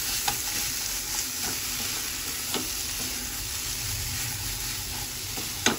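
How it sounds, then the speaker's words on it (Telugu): A snack mixture stirred in a frying pan, steady close sizzling of hot oil throughout with occasional scrape and clack of the spoon against the pan, no talk. "కొంచెం కలుపుతూ ఉండాలి, ఇలా మిక్స్ చేసుకుంటూ ఉండండి."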